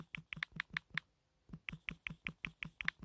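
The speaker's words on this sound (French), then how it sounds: "je modifie avec mon clavier." Typing on a computer keyboard: a quick run of crisp, close key clicks, a short pause, then another steady burst of presses, faint and with no voices.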